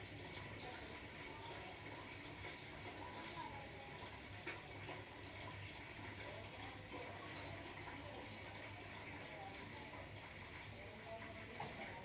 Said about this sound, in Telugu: స్నానం నీళ్ళు పెట్టుకున్నా